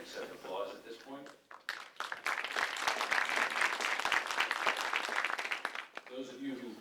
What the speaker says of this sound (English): accept applause at this point